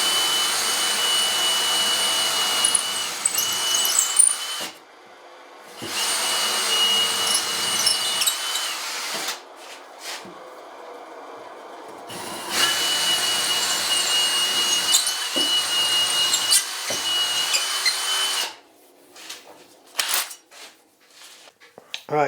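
A power drill bores new holes for the inserts of a knife maker's heat treat oven, whining loudly in several long bursts separated by short pauses, with scattered metallic clinks between them.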